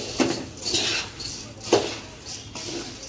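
Spiced puffed rice (lasaniya mamra) stirred in a pot, with a few scraping, rattling clinks of utensil against metal at uneven intervals, close and moderately loud, no talking.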